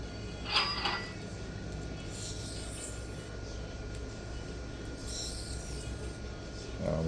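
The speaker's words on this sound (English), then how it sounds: "I'm making more deburring passes than needed because I know this steel is very gummy." A knife of gummy steel is drawn across a Sharpal 325/1200 diamond plate in deburring passes, making close, continuous scraping and rasping with a few brighter strokes standing out, with no one speaking.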